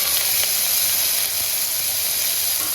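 Chopped onions sizzle in hot oil with a bay leaf, cinnamon and cloves, a steady, even hiss close by with no other sounds.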